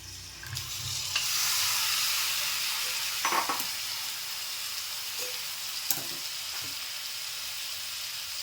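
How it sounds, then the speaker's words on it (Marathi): Raw chicken tipped into a hot pan of oil with green chillies for chicken pulao sets off a steady, loud sizzle and hiss, with a few sharp clinks and stirring scrapes scattered through it. "आता हे चिकनसुद्धा मी त्यात ओतून घेते"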